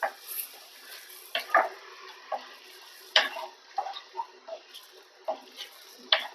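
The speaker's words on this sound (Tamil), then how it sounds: "இந்த மசாலாவோட போட்டு நல்லா பரட்டி எடுத்துக்கலாம்." Chicken liver coated in masala is stirred in a pan, with a spatula scraping and clacking in irregular knocks over a faint low sizzle, close and without speech.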